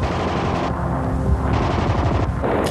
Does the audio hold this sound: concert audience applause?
no